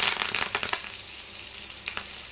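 Cumin seeds, green chillies and curry leaves crackle and fry in hot oil in a pan for poha chivda, a quick bright spluttering burst that fades to a softer sizzle, with no voices.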